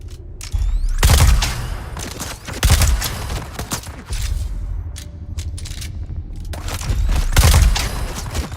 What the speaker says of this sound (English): I really wanted that grenade to hit him.